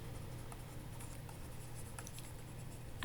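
Chalk or marker strokes scratch across a board in a classroom lecture, a quiet run of short scraping writing sounds with brief pauses, with faint room hum underneath and no talk.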